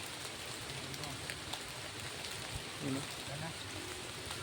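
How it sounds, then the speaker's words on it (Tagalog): Rain pours down in a steady, dense hiss, with a brief spoken word and faint background noise. "Sobrang ulan tol."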